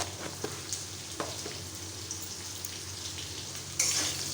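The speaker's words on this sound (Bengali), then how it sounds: "আরও কিছুক্ষণ আলুটা ভাজতে থাকবো" Potatoes fry in a pan with a continuous soft sizzle and occasional light scrapes or taps of a utensil, heard close but fairly quiet, with a louder burst of sizzling at the very end.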